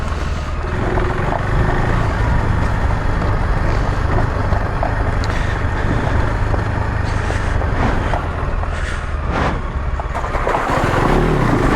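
KTM 390 Adventure R motorcycle engine climbing an off-road trail uphill, a steady loud engine drone mixed with wind buffeting and rustling bumps, no talking.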